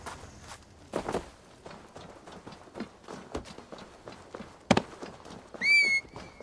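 Horse hooves clip-clop in Assassin's Creed Valhalla during the Siege of Paris, a run of irregular footfalls close by, joined by a sharp clatter and a brief whistle-like tone near the end.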